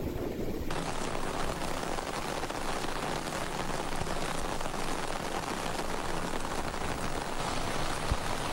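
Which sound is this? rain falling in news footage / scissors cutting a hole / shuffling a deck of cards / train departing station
rain falling in news footage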